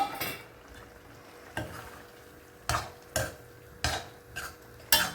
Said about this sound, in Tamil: நம்ம வேக வச்சு வச்சுருக்கிற பேபிக்கான அதில் சேர்த்துடலாம்